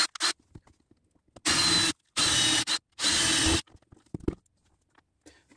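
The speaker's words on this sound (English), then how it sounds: "I'm going to drill a hole at an angle up through here" A power drill whines in three short, loud bursts, boring an angled hole up through a bus bathroom fixture for a screw, with quiet handling clicks between and after the runs.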